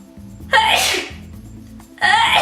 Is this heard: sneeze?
yes